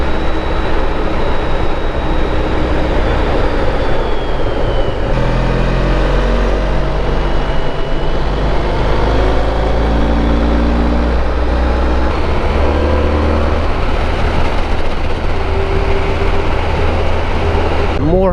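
Honda ST1300 motorcycle cruising on backroads, a steady loud engine drone and heavy wind rush running throughout, with shifting tonal hum as the bike changes speed.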